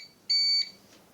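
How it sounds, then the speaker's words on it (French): Built-in beeper on a salvaged 18650 lithium battery pack gives one loud, steady high-pitched electronic beep of about a third of a second, alone in a quiet room. "vous entendez le bip bip comme ça qui est vraiment agaçant"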